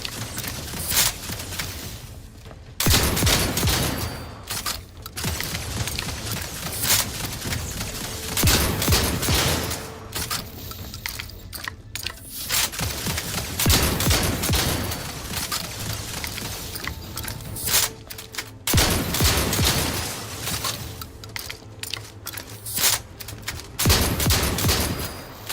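Shotgun fire in The Outer Worlds 2 on hardest difficulty: repeated loud, booming blasts spaced a few seconds apart, each with a short ringing tail, over a constant rumbling combat background.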